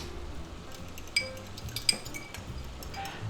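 Beef lo mein stir fry with ramen noodles and vegetables being stirred in a pan, with a few light clinks of a utensil against the pan over a quiet background, no talking.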